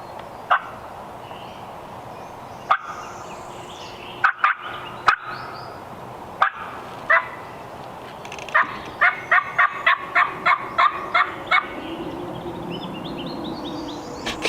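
A wild turkey gobbles in spring woods, with a few isolated calls early, then a rapid run of sharp, rattling gobbles midway, moderately distant over steady wind noise.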